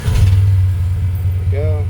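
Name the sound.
1930 Ford Model A engine revving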